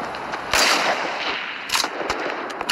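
Gunfire from the video game Fortnite, with bursts of shots at about half a second and again near 1.7 seconds, followed by a few brief sharp cracks over a steady game background.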